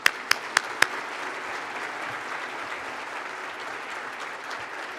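Audience applause at a State of the City event in Portsmouth, Virginia, opening with a few sharp close claps before settling into steady, moderately distant clapping from a large crowd.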